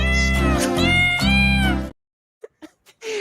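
An orange cat meows in a short cat clip, a long drawn-out loud meow up close, followed by silence and a few faint brief chirps before another sound begins.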